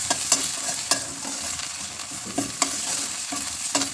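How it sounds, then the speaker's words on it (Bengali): Garlic and ginger paste being stirred into olive pickle in a hot pan: a soft sizzle broken by repeated scraping spoon strokes, close by, with no voices. "এরপর এখানে একে একে রসুন বাটা ও আদা বাটা দিয়ে দিলাম। এরপর এগুলোকে ভালোভাবে মিশিয়ে নিতে হবে।"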